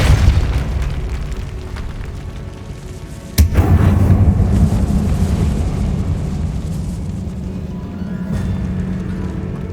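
Spell blasts from the Hogwarts Legacy video game: a loud booming burst hits about a third of the way in, followed by a sustained low rumbling roar that slowly fades, with no talking.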